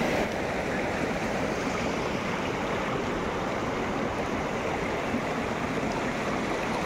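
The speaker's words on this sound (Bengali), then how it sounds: "এই জলের আওয়াজটা যে কি শান্তির" Stream water rushes steadily over rocks at Jogi Ghat in Sittong, a dense, continuous broadband flow heard close and fairly loud, unbroken throughout with no voices.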